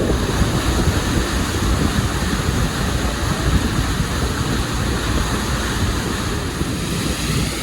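Choppy river waves slap and wash loudly against a riverboat travelling on the river out of Samarinda after a tugboat-pulled barge goes by, with a steady roar and broadband wind buffeting the microphone throughout.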